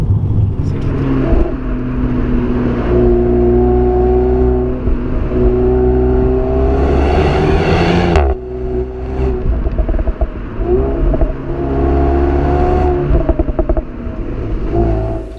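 A Renault Mégane 4 RS accelerates hard out of a corner, its engine note rising loud and steady from inside the car, with a brief shift break before revving up again; no talk.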